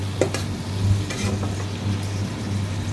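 Green chillies frying in a pan, a close sizzle with stirring scrapes and a few sharp clatters of the utensil against the metal, no voices.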